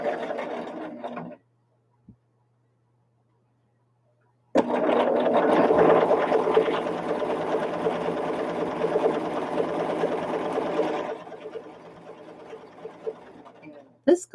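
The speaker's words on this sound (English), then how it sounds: "And then sewing the triangles." Quilt triangles cut from a jelly roll are sewn on a sewing machine: a brief run, a pause, then a long, loud, steady run lasting several seconds before stopping.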